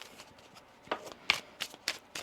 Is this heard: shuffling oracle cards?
yes